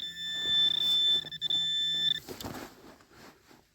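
A metal detector's steady electronic beep tone sounds for about two seconds in a forest, then cuts off, followed by faint rustling and scraping.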